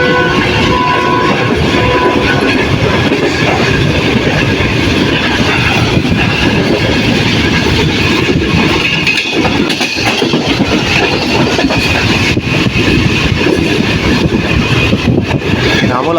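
The 43 Up Shahjahan Express roars past a railway station, a loud, continuous rush of wheels and rattling carriages with rhythmic clatter and metallic squeal, dense and close throughout.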